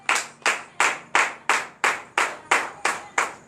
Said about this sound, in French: Donne l'acclamation à notre Seigneur Jésus